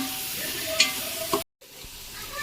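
Chopped tomatoes with salt sautéing in a pan for prawn biryani, a steady soft sizzle with a couple of brief utensil clinks, cut by a short gap of silence before the frying resumes.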